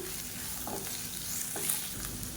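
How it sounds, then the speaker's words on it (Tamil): Grated radish chutney ingredients and tamarind sautéing in a pan, a soft continuous sizzle with gentle stirring scrapes, close and steady throughout. "இது எல்லாமே நல்லா வதங்கணும்"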